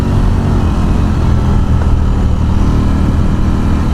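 A Ducati Streetfighter V4 hyper-naked motorcycle rumbles loudly and steadily nearby, a deep continuous engine drone with no voices over it.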